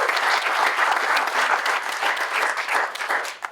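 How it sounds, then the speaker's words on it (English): A crowd applauding at a disc golf championship final in Michigan, with sustained, dense clapping at an even level that thins slightly toward the end. "so big round of applause for those guys"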